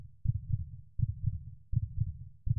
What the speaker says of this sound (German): Warum habe ich einen Herzschlag?